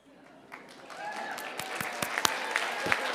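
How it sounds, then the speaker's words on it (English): Audience applause at a morning creative lecture swells in from quiet, growing into a moderate patter of clapping with a handful of crisp, distinct hand claps. "I applaud you"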